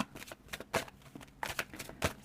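Tarot cards are shuffled up close in quick riffling bursts, several short papery flutters in a brief uneven rhythm, with no talking.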